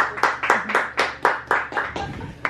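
Steady hand clapping, about a dozen sharp claps in an even rhythm, close and fairly loud, with no talk over them.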